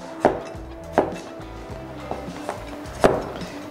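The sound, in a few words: knife slicing cucumber diagonally on a board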